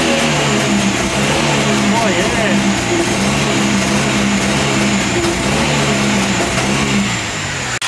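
A V6 Ecotec car engine revs hard and holds against a Bee R rev limiter, a loud sustained droning roar close by, with a brief exclamation from a person over it.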